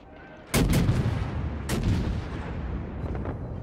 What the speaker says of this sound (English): I'm firing torpedoes off your aft.